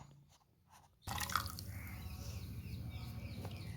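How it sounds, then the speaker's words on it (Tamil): Blended amla juice being poured and strained through a cloth, a steady wet trickling and splashing that starts abruptly after a quiet moment and continues close up. "இது நீங்கள் ஒரு துணியில் ஊற்றி நல்லா வடிகட்டி எடுத்துக்கோங்க."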